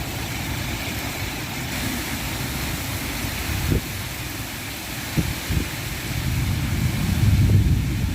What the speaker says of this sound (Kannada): ನೋಡ್ತಾ ಇದ್ರಲ್ಲ ಸ್ನೇಹಿತರೆ ಎಷ್ಟು ಗಾಳಿ ಐತಂತ